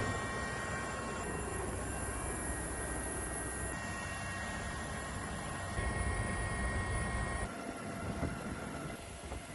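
A Pakistan Navy rescue helicopter flies overhead during flood rescues in heavy-rain weather in Sri Lanka, its steady broadband engine and rotor roar continuous and fairly distant, with no voices.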